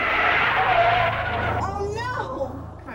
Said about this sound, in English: He slammed on the brakes and swerved, but his efforts to avoid a collision had failed.